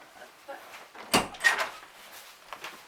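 A door is opened indoors, giving a sharp click of the latch followed by a second softer knock against the frame, fairly close, over a quiet room with faint background noise.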